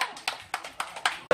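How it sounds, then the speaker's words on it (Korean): Rhythmic clapping from people at a hometown association spring outing, a handful of sharp, evenly spaced claps in quick succession, close and fairly loud. "박수 한번 주시고요"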